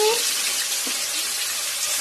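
Sliced onion hits hot oil already holding bay leaf, producing a loud, steady, hissing sizzle that fills the whole moment up close.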